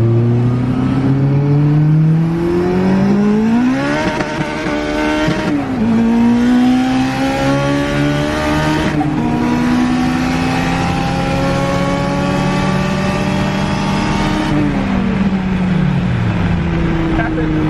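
A Z06 Corvette roars through a burnout outdoors, its engine revving loudly in repeated rising and falling sweeps with tire noise underneath, close and sustained.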